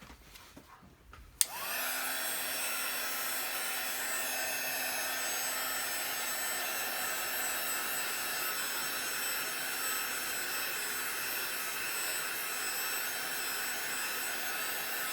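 A heat tool roars steadily and loudly as it dries chalk paste on plastic. It starts after a brief click and continues unbroken with no speech.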